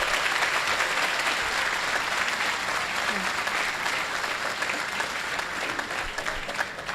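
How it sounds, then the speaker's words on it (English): Audience applause at an I-405 improvement groundbreaking ceremony, a dense, sustained round of clapping from a sizable outdoor crowd, steady and fairly loud throughout with faint background voices. "So if we could have a rousing round of applause."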